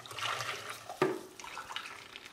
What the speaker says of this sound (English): I'm going to put 4 cups of hot water.